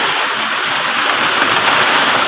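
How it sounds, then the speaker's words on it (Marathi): Heavy monsoon rain falls with a stormy wind, a dense, steady roaring hiss close by and unbroken throughout, with no voices. "मस्त पाऊस पडतो"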